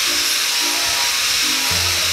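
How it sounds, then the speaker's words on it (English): A metal grinder works over a thrift-store bench during a furniture makeover, a loud continuous high-pitched whine with a rough abrasive hiss, its tone dipping slightly as the pressure changes. "now I'm using Tyler's metal grinder, which is what we use for the stairs, and it works really well"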